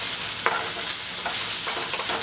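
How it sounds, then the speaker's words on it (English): Mixed vegetables sautéing in a pan, a steady broadband sizzle with a few light stirring scrapes from a utensil, close and continuous without talk. "I'm going to saute this one 5 minutes"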